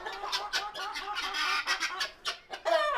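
Several guinea fowl call nearby on a farm in a rapid series of harsh, grating clucks and cackles, loud and repeated with brief pauses.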